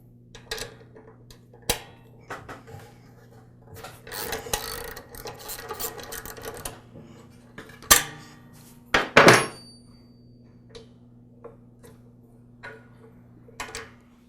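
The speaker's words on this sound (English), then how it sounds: "we'll start by loosening this upper idler pulley so we can remove the belt from its guard" Metal wrenching on the upper idler pulley of a Troy-Bilt small-frame tiller transmission: scattered close clicks, rasping scrapes and a few sharp clanks amid quiet pauses, over a low steady hum, with no talk.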